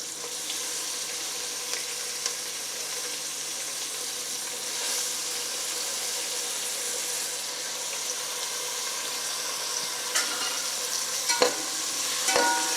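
Brinjal pieces soaked in water going into a pan of reddened onions for vangi bath, giving a steady, moderate sizzle and frying hiss with occasional stirring clatter near the end, no voices.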